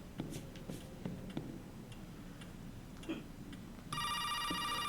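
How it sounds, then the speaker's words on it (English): A telephone in Resident Evil 7: Biohazard bursts into a loud electronic ring near the end, after faint ticking and scattered clicks in a quiet room. "There's the phone."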